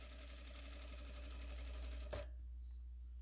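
A sewing machine stitches fabric in a fast, steady mechanical whir that runs close and continuous for about two seconds, then stops abruptly, leaving near silence.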